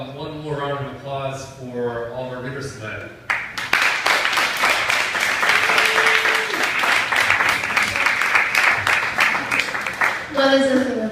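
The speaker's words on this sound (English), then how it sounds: "Let's give one more round of applause for all of our readers tonight." An audience bursts into sustained applause for the readers at a poetry reading in Seattle, a dense steady clapping that rises abruptly and carries on loudly for several seconds, with a voice speaking before and after.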